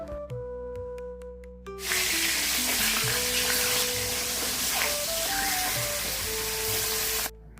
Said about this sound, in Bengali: মাছগুলো ভেজে নিয়ে ঝোল করি আগে।